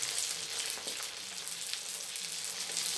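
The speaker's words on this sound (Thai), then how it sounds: "พอเราเอาลงมาทอดซ้ำอีกรอบนึงนะครับเขาจะกรอบเลยนะครับ" Frog pieces and garlic crackle and sizzle steadily in hot oil during a second deep-frying, a dense, continuous hiss close by with no voices.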